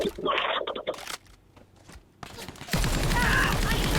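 Rapid bursts of gunfire from the shooter game Disorder, loud and dense in the last second or so after a brief stretch of quieter sound and talk.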